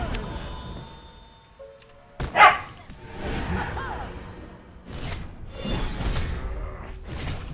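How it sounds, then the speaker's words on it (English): Pet dogs bark in the background during a Smite gaming session, a sharp bark burst followed by several softer yips and rustling, with faint sounds around it. "Those are my dogs."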